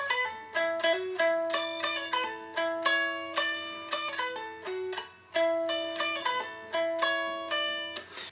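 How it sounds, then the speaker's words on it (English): An electric guitar plays a fast picked line with pull-offs on descending notes, bright plucked tones in a quick, even, syncopated pattern, clean and solo at moderate volume with no talking. "You really want to do pull-offs to get the notes on the way down."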